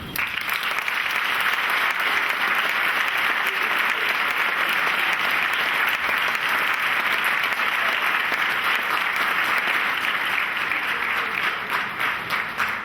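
An audience at a Valencian fallera presentation and tribute event breaks into sustained, dense applause, loud and steady clapping that continues for about thirteen seconds and tapers slightly at the end.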